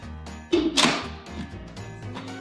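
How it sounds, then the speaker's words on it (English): A lid set onto a slow-cooking pot holding a cola-covered pork roast lands in a single close, dull clunk with a brief rattle, then quiet. "And then you put the lid on."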